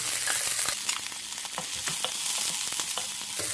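Green onion stir-fries in oil in a pan over very low heat for kimchi fried rice, crackling and sizzling steadily with scattered sharp pops and stirring scrapes, close and clear.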